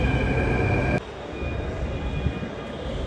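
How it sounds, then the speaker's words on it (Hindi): A metro train pulls away from the platform: a loud whine and rumble that drops off sharply after a second, leaving a steady, fading roll in station ambience. "मुंह के सामने से निकल जाती है भाई मेट्रो।"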